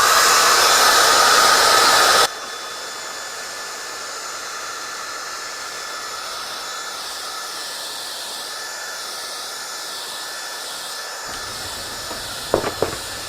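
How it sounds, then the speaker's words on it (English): A hair dryer blows with a loud, airy roar for a couple of seconds, drying watercolor paper, then drops to a softer steady hiss, with a few faint knocks near the end. "I'm going to dry this now with my hair dryer, and it's probably going to be very loud"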